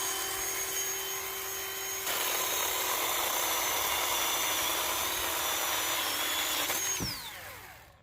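A chainsaw runs at a steady droning whine used for landscaping, then revs higher and holds before the engine suddenly drops and winds down near the end.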